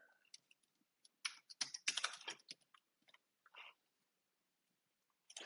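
A computer keyboard being used to enter an administrator password during a MinIO AIStor setup: quiet, scattered clusters of keystrokes, some crisp taps and short flurries separated by silence.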